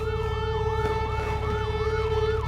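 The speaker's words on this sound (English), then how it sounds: "Here comes the ambulance." An ambulance siren wails continuously, its pitch sweeping up and down in a steady cycle over a low engine rumble, fairly close.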